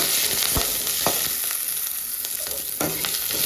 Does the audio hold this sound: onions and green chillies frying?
yes